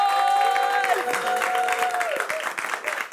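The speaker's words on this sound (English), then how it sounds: "Come on, give her a round of applause." An audience claps in a dense, steady wash of applause with a few voices rising over it, then it thins out.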